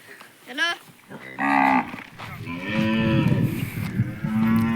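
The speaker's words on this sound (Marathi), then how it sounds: "आपले गोठ्यातले जनावर ओरडत आहेत" Several cattle in a cowshed moo one after another close by in the evening, long loud lowing calls overlapping, with a short higher call at the start.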